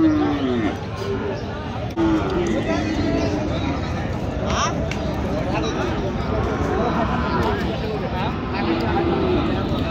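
Native-breed cows, bulls and calves at a cattle market in Dinajpur, with lowing and moos rising over constant crowd chatter and someone talking close by.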